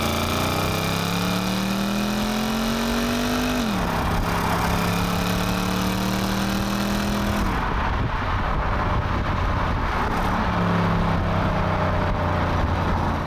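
A Jaguar XK with a 4.2-litre V8 in sport mode blips and rises in pitch as it is downshifted on paddles, its loud engine note climbing in steps with sharp rev jumps and then settling.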